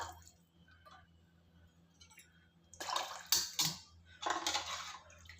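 Water pours from a cup into a cooking pot, a quiet room giving way to a few short splashing bursts and trickles near the end, with faint clinks in between.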